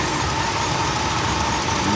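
A 1968 Ford LTD V8 idles steadily up close in a garage with the radiator cap off during a cooling-system flush, a continuous low rumble with a faint exhaust leak on the driver's side and no talk over it.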